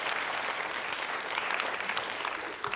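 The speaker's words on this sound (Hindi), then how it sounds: "तालियां बजाइए इस जानकारी के लिए आप।" An audience at a university consumer-protection quiz show claps in sustained, dense applause, steady and loud from start to finish with no voices over it.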